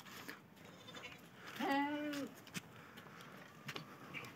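A crossbred goat lets out one wavering, nasal bleat about midway through. It stands out clearly against quiet background noise, with faint scattered sounds around it.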